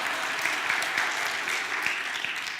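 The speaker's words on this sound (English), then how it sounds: "Let's give Linda a round of applause" An audience at a leadership training keynote applauds a participant, a steady wash of many clapping hands with a few sharper claps standing out, sustained for a few seconds.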